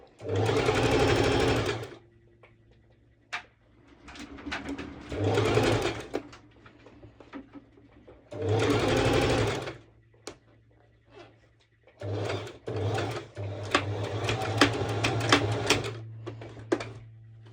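A sewing machine stitches a lettuce edge on stretchy fabric with elastic pulled taut, running in several loud bursts of rapid whirring and clatter separated by short pauses, close to the microphone.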